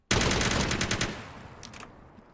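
Rapid burst of Vector submachine gun fire in a video game, a dense string of loud close shots lasting about a second and a half before trailing off, with no talk.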